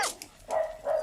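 Tricky Woo, a small pet dog, gives a short burst of two or three quick, high yappy barks and whines, close and fairly faint, with no one talking.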